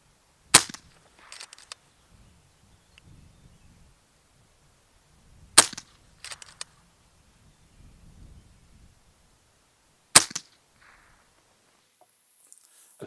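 FX DRS Tactical 700mm .25 calibre air rifle fired without a moderator: three sharp, loud cracks spaced about five seconds apart, each followed by faint clicks and rustling handling noise in an otherwise quiet outdoor setting.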